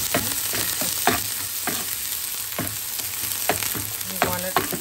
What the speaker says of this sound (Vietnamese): So I'm gonna fry my garlic and get the fry.